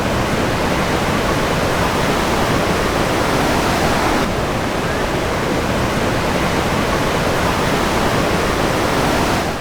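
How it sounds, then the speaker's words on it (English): The Krimml waterfalls in an Austrian alpine valley roar as a loud, steady, unbroken wash of rushing water, heard alone with no voices. "you can still see the waterfalls rising even higher up the valley"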